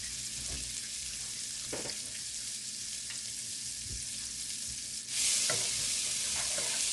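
Butter melting in grapeseed oil in a pan, a steady close sizzle with occasional stirring scrapes and taps, swelling to a louder, brighter hiss near the end.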